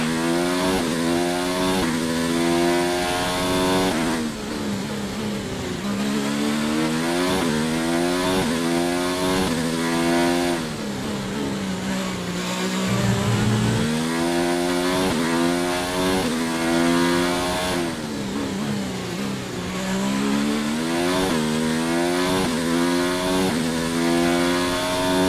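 A Formula 1 car engine with a worn power unit, racing at Sochi in F1 2019: a loud, continuous, high-pitched whine that climbs repeatedly through the revs and drops sharply at each gear shift, with one deeper dip partway through.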